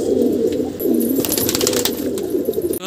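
Gulder pigeon newly caught and let go on a rooftop, with steady low cooing and rustles of wings or handling in the middle, ending in a sharp thump.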